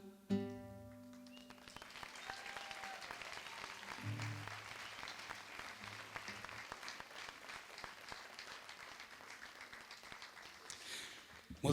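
Sustained audience applause for a singer after a Catalan song, steady dense clapping throughout, fairly distant, briefly under a few sung or spoken tones at the start.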